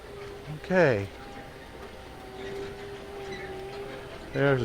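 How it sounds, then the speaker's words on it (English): A zoo tram at the Oklahoma City Zoo rolls past on a partly cloudy morning, giving a low steady rumble, while a person speaks briefly at the start and again at the end. "There's a tram going by."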